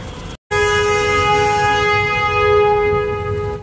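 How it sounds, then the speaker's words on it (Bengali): A safari jeep's horn on the way to Gorumara National Park in West Bengal blares in one long, loud, sustained tone after a brief gap, close and steady with a train-like quality, under no talk. "কিছু না থাক, হর্নটা আছে"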